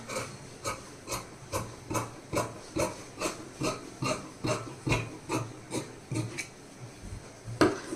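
Scissors cut a blouse sleeve from cloth in a steady series of close, rasping snips, about two per second, with no talking.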